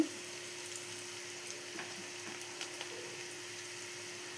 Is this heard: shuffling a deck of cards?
no